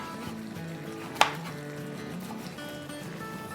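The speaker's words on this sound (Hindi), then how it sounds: "अब इसमें से हम क्या करेंगे कि एक को थोड़ी छोटी काट देंगे, यूं डायगोनल" A knife cuts green chilies diagonally on a cutting board, giving one crisp, fairly quiet chop against a steady low background hum.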